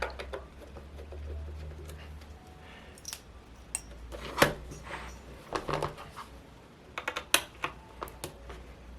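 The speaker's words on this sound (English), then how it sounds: "Now I'm just going to start removing screws and see what happens here." Small screws being backed out of a Futaba FP-7GK radio transmitter: soft scattered clicks and metallic taps up close, with a few sharper ticks as parts are set down, all quiet and without talk.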